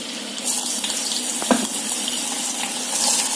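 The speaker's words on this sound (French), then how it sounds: "Et vous plongez petit à petit les oignons." Onions are added a little at a time to a pan of hot oil for beef meatballs, giving a steady, loud, hissing sizzle with no talk.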